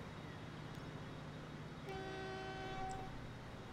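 A train rolls along in Transport Fever 2 under a faint, steady rumble, then a horn sounds a sustained toot partway through, fairly quiet throughout.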